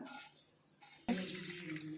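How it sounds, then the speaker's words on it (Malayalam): Water pours in a steady, full rush onto a ground spice mix for grinding into paste, beginning abruptly partway through after a quieter stretch of faint running water. No voices. "ഇനി നമുക്കിതിലേക്ക് വെള്ളം ഒഴിച്ചിട്ട് അരയ്ക്കാം"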